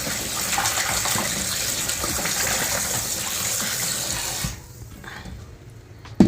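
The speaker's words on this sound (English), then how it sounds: "at least you wash the meat out" Tap water pours steadily over raw goat meat being rinsed clean, a loud continuous gush that cuts off near the end, leaving quieter handling noises.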